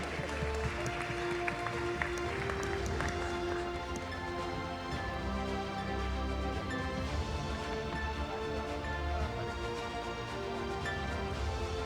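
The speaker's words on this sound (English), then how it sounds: "give them a round of applause as they come up to the stage" An audience at the Gusi Peace Prize ceremony in Metropolitan claps continuously for honorees walking up to the stage, a dense, steady patter of applause from a crowd filling the hall, with background music beneath.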